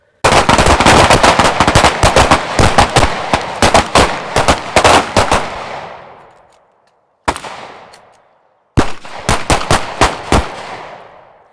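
Gunfire during a shooting drill: a dense, loud, close stream of rapid shots that tails off, then a lone shot after a short silence, then another quick burst.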